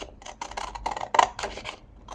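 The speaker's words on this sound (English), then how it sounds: "I'm just going to cut the envelope out, following the lines that I've drawn." Scissors snip through paper while cutting out an envelope shape along drawn lines, a close series of quick crisp cuts and rustles in an uneven rhythm.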